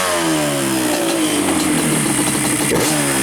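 A Yamaha Banshee engine revs loudly and steadily up close during carburetor synchronization, its raspy two-stroke tone holding high with rising and falling harmonics and no talk over it.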